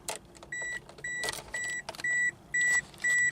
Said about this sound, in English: Obviously that's a Toyota chime.